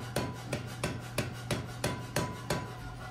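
Power hammer forging a bevel on a steel bar: a steady run of about ten sharp, evenly spaced metallic blows, close and loud, with no talking.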